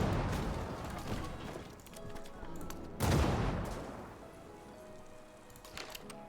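A strategy video game battle fills the space with a dense crackle of massed gunfire and a couple of heavier booming volleys that roll on as a steady, loud barrage.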